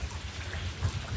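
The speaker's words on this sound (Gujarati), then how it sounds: "વરસાદ ચાલુ છે." Rain falls steadily outdoors, a soft continuous patter and hiss with faint low rumbles, heard alone for about a second.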